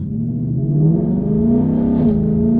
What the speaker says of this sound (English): I'm coming to a stoplight right now, so that should be a pretty good test right now where I can actually give it a little bit of throttle.